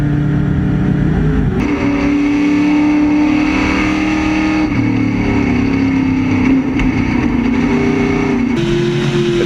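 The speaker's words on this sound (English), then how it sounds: "the 77 of Robert Kaufman in a Chevrolet Camaro" Historic Trans-Am race cars, including a Chevrolet Camaro, race on a wet track at COTA, loud engines roaring and shifting pitch as cars rev and pass close by, continuous throughout.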